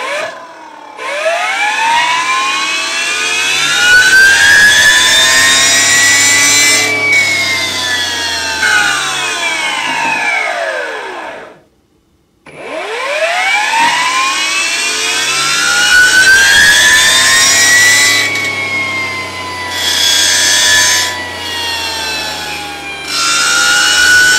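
A Makita MUR013GZ cordless brush cutter (35cc-equivalent) with a shredder blade: its electric motor whines and rises in pitch, holds steady, then spins down to near silence before revving up again. It is loud and close.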